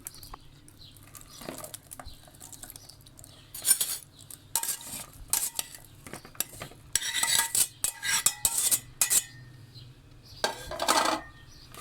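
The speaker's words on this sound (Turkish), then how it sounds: "Şimdi bir süzgeçle suyunu süzeceğim." Cooled chamomile tea strained through a metal sieve into a bowl, with scattered clinks, taps and wet splashy pouring bursts coming in uneven clusters, close and fairly quiet.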